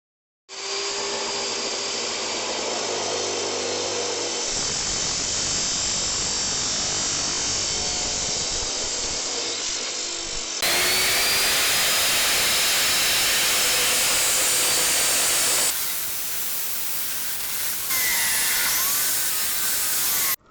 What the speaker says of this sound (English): First, I'm going to have to cut the steel.